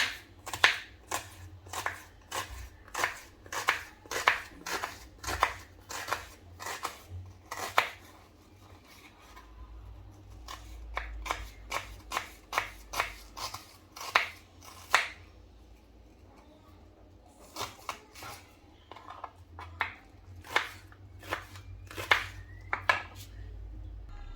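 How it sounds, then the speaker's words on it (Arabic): Knife chopping an onion on a cutting board, a long series of crisp, close taps in quick bursts with brief pauses between runs. "غادي ندوز نقطع البصله ديالي"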